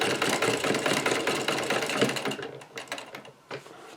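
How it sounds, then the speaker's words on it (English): A sewing machine stitching backwards across patchwork fabric for a beanbag, a loud rapid mechanical whir up close that slows into a few separate stitches and brief pauses, with no talking. "we'll turn it round and just do a few stitches backwards"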